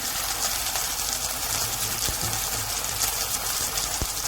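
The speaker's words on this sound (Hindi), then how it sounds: "थोड़ा सा मैं इसमें पानी डाल देंगे।" Water is poured into a pan of chicken cooking in oil, giving a steady, close rushing gush that lasts the whole stretch, with a couple of faint low knocks and no talk.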